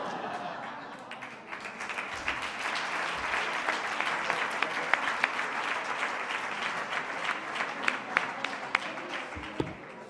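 Sustained applause from a sizable conference audience, dense and steady clapping that builds slightly and continues for several seconds before tapering.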